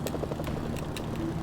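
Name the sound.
helicopter approaching in the video game Mercenaries: Playground of Destruction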